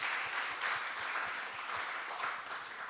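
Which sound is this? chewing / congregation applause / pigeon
congregation applause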